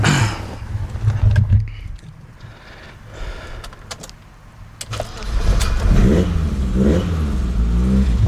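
A cold BMW E30 M3 engine cranks briefly, catches and then settles into a rough idle with a few revs, heard close by.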